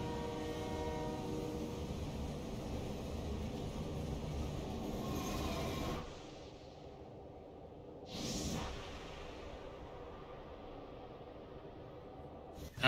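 Train rumbling through a scene in the Dead or Alive fighting game, a steady loud rolling roar that drops abruptly partway, followed by a brief bright burst and a quieter continuing rumble.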